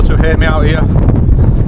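Strong wind gusts batter a Hilleberg Nallo 2 tent at a wet, windy wild camp in the Lake District, a loud, continuous rumbling buffet while someone talks over it.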